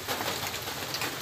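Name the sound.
rain falling beside a lake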